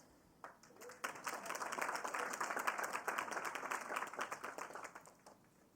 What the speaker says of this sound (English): Clap away